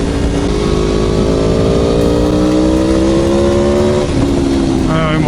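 A motorcycle accelerates hard at speed, its engine note climbing steadily in pitch, then briefly dipping at a gear change before rising again, loud and close with wind noise.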